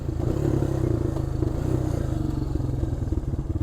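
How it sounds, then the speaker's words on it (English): A Honda Foreman 400 ATV engine runs at full throttle while pulling a trailer off road, giving a steady, loud, close mid-pitched drone with rattling clatter throughout and no talking. "This is full throttle right here."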